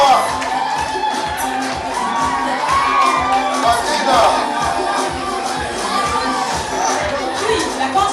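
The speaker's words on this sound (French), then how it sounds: "Madina, on l'applaudit très fort," A pageant audience at Miss Est Afric 2015 claps, cheers and whoops for a Ugandan contestant, a loud, continuous crowd roar with shouts and chatter mixed throughout.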